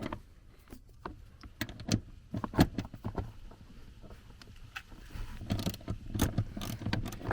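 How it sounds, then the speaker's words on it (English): A 14 mm socket wrench breaks seat bolts loose inside a Toyota Tacoma, giving close ratcheting clicks, metallic clunks and short creaks in irregular bursts, with some clatter of handling and no voices. "we're going to use our 14 millimeter socket. Break that loose. Break the other one loose."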